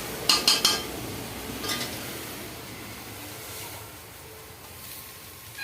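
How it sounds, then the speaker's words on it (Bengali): Fried dry leafy greens being tipped out of a cooking pan, with three quick sharp metal clinks of a utensil against the pan, a softer knock a moment later, then only quiet kitchen background. "আমার শাক ভাজাটা হয়ে গেছে, আমি ঢেলে দিচ্ছি।"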